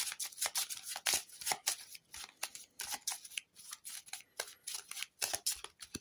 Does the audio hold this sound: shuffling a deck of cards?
yes